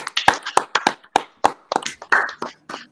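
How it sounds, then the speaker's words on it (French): Guests at a 2020 Quebec web creators gala clap in loose, scattered bursts, with sharp individual handclaps close by rising and falling over a few seconds. "on s'applaudit."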